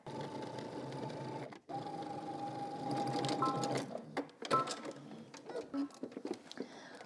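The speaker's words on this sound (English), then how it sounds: "now we're gonna head to the sewing machine and you're going to edge stitch the folded edge down" A sewing machine edge-stitches a folded fabric edge in a steady, continuous whir with a brief pause partway, then stops and starts in short bursts, with faint handling noises.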